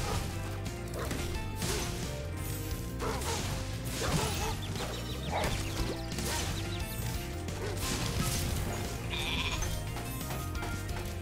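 Sheep bleating in the Spyro Reignited video game, repeated cries among crashes, clanks and game music.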